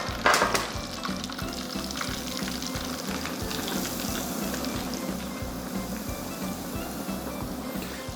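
Chicken wings sizzle and crackle in hot oil, a steady frying hiss with faint pops, close up.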